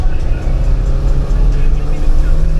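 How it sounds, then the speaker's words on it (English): A Porsche 924 engine roars steadily under hard acceleration uphill, a loud continuous low rumble with no break across the whole stretch. "I'm just gonna floor it uphill one more time and hear the noise"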